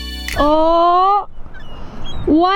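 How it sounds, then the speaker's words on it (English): Geese honk loudly at close range, one drawn-out call followed after a short pause by the start of another, with no talking over them. "Look at all those chickens."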